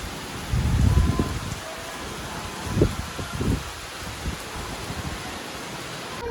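Heavy rain driven by strong wind, a constant broad wash of falling drops with a few louder gusty surges and rustles, steady and close, with no one talking.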